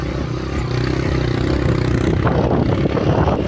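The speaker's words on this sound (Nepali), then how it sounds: "एउटा बाइक माथि पुगिसक्यो जस्तो" A motorcycle engine strains loudly and continuously, rough and clattering, as if pulling uphill under load on a rough track near Kunchok, Nepal, close by.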